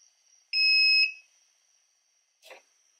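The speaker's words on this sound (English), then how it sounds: "you have to press that switch until you're gonna have a beep sound for 3 to 5 seconds" A 2019–2021 Toyota RAV4 electronic trunk lift latch in learning mode gives a single steady electronic beep of about half a second. It is followed by a brief soft click or rustle, with quiet between them.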